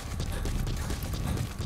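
Horse hooves clip-clop steadily at a walking rhythm in Metal Gear Solid 5 Phantom Pain, close and continuous over the game's ambient sound.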